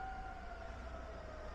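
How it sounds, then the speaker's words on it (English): A Zouaga siren in Morocco sounds the breaking of the Ramadan fast, a steady, sustained wail held at one pitch over low background rumble, distant and fairly faint. "Sounds like a distant siren."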